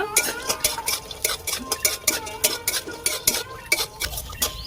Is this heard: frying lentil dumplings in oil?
yes